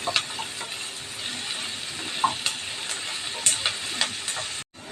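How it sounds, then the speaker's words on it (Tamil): Chopped onion and garlic sizzle in oil in a pan for a Tamil-style okra stir-fry, a steady soft hiss with occasional small pops and crackles, close and continuous, cut off briefly at the end. "வெங்காயம் நல்லா கொஞ்சம் வதங்கட்டும்."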